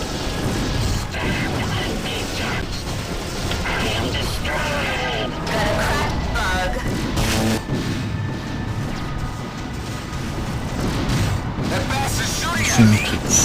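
Missile explosions in a space starfighter combat video game, a run of heavy crashing blasts and booms packed over game sound and effects, with voices talking over the action.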